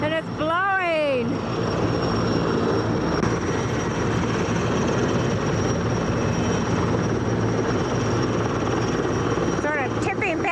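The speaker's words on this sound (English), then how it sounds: "That helicopter's so loud and it's blowing." A helicopter hovers close by with a loud, steady rotor roar that fills the whole stretch, and people's voices break in briefly near the start and the end.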